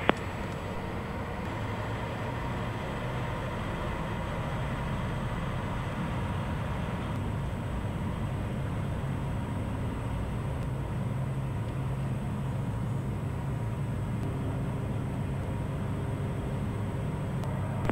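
A Piper Meridian P46T turboprop airplane takes off from a runway, a steady loud broadband engine roar and rushing noise holding continuously throughout with no talk over it.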